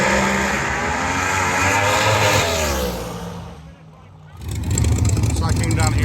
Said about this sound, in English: it's the fun cars, the cool cars, the ones I like to see. Doing burnouts. Getting ready for their run.